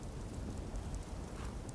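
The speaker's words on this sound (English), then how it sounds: "Why is it always raining?" Steady rain falls in the video game Skyrim as a dense, even hiss with a low rumbling undertone, continuous and fairly loud throughout, with no voices.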